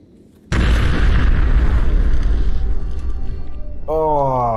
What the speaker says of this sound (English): that's 2 violent explosions in about 10 minutes or so